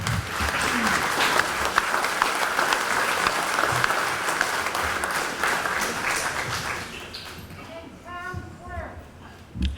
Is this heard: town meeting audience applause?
yes